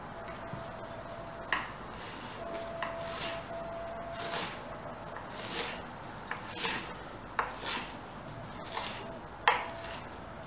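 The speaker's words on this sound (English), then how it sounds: "I have plucked the leaves of fenugreek. Now let's chop it little bit." Fenugreek leaves chopped on a board with a knife for a salad, giving soft, irregular chopping knocks and rubbing against low background hum, fairly quiet and close.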